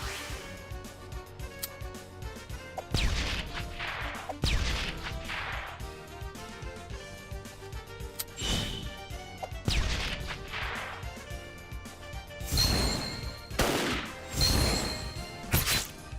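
A sync team attack in Metal Slug Tactics lands as a series of sharp whacks and crashing impact bursts over a busy game soundtrack, several hits clustered near the end.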